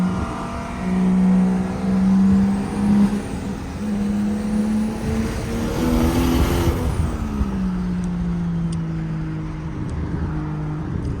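Straight-piped single-turbo BMW 335i engine downshifting, a loud droning exhaust note that rises in a rev blip and then falls away, heard close from inside the car.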